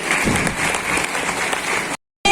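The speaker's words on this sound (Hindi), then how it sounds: "उनके लिए जबरदस्त ताली होनी चाहिए।" Enthusiastic applause from a crowd at a DXN seminar meeting in Prayagraj, a dense continuous clatter of many hands for about two seconds before cutting off abruptly.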